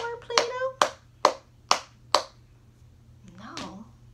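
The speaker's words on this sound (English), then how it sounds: "Do we need to clap before we start making our Play-Doh?" A voice speaks briefly, then four sharp hand claps ring out at a steady beat, close and distinct, before the voice returns softly in a children's craft lesson at home.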